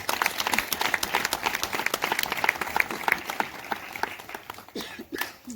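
A church congregation applauds, with dense, lively clapping from many hands and a few crowd voices mixed in, holding strong for several seconds before thinning slightly.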